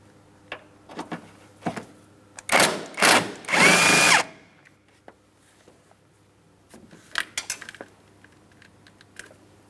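An impact or power tool zips out the 16 mm upper transmission mount bolts on a 2008-2016 Chrysler Town & Country 3.8L V6 in two loud bursts, amid clinks and rattles of socket and metal hardware nearby.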